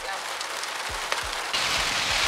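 Heavy warm rain pours down on the way to a grocery store, a dense steady hiss that grows louder partway through, with low thumps beneath it.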